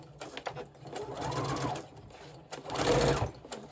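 A sewing machine stitches through a junk journal card in two close bursts, its motor whirring and needle chattering between short pauses, with faint handling sounds around it.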